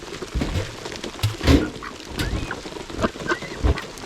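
A duck quacks in short, scattered calls outdoors near a drainage work site, mixed with irregular splashes and rustling, moderately close.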